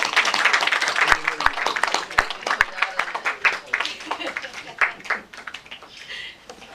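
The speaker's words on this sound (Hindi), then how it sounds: "आप सभी लोग तालियां बजा सकते हैं।" Audience applause in an auditorium during a book launch ceremony, a busy burst of many hands that thins out toward the end, with a voice talking beneath it.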